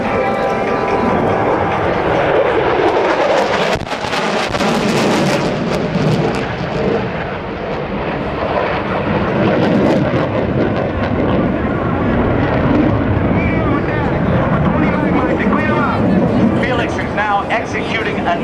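Military jets of the Tomcatters squadron make a low-level attack pass at the 2010 NAS Oceana airshow: a loud, sustained roar that swells and lingers, with an announcer talking over the public address.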